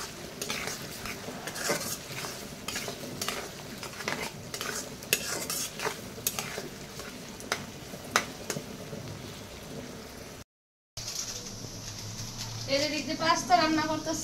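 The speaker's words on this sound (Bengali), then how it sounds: "এই যে ভালো করে মশলাটা ভেজে নিতেছি" Onion, green chili, tomato and spices stir-fry in a pan on a low gas flame, with a steady sizzle and frequent sharp scrapes and taps of a spatula while people talk nearby. There is a brief gap before a final noisy stretch.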